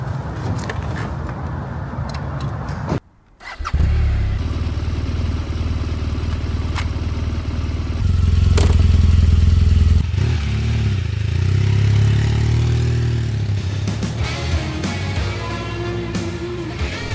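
Motorcycle on a ride toward Henry Hagg Lake in Washington County, Oregon, its engine droning steadily with wind rush and a brief dropout, rising louder in the middle as it accelerates, with no talking.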